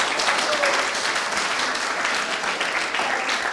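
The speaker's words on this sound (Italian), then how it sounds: "l'applauso per il presidente è stato un po' più spontaneo" Applause for the president at a rugby event in Abruzzo, a dense, steady clapping from a crowd lasting throughout, fairly loud and even.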